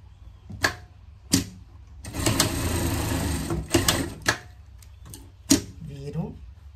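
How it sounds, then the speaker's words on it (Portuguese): A sewing machine runs a short continuous stitching burst on fabric while a pet cover is sewn, framed by several sharp clicks and knocks of handling, with brief speech nearby. "e vou costurar aqui, tá?"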